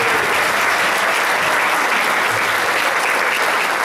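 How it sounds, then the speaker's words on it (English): A crowd at an 80th birthday bash applauding the band, dense continuous clapping that stays loud and even from start to finish. "Give him a big round of applause."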